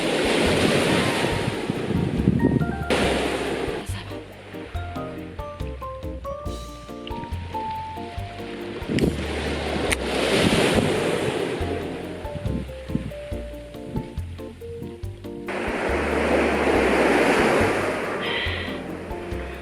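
Ocean waves break on the shore beside a seaside day campsite in Japan, with surf washing in repeated loud surges and wind rumbling on the microphone between them.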